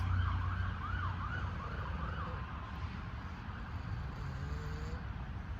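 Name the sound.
emergency vehicle sirens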